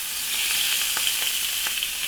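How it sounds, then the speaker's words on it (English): Olive oil sizzles steadily in a hot pan, a continuous bright hiss with a few small pops and crackles, close and fairly loud, with no talking. "If you hear that sizzle"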